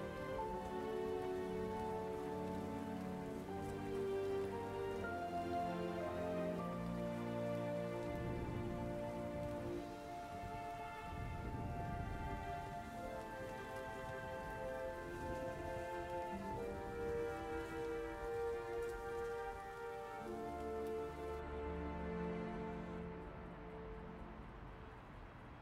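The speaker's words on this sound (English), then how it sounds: "is it raining hard?" Heavy rain pours steadily for about 26 seconds, mixed with sustained tonal, music-like layers that swell and shift throughout, with no talk.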